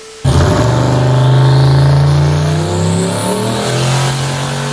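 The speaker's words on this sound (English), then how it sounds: "throw them through a dyno roller going 120 miles an hour" A car engine revs hard on a dyno roller at around 120 mph, a loud sustained roar with rising and falling pitch, close and alone.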